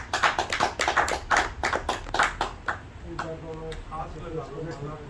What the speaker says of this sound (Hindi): तालियां बजा दो ना